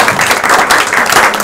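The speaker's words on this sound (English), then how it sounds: "Please give him a great applause." An audience at a European religious leaders' symposium claps for a professor, loud and close, a brief dense burst of many hands with no voices on top.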